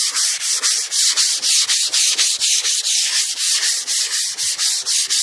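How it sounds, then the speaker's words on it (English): Steady back-and-forth hand sanding of paint on a 1988 Cadillac DeVille, a rhythmic rasping scrape, each stroke close and loud, repeating about four times a second with no voices. "Just sand all of it off like that. Keep sanding it."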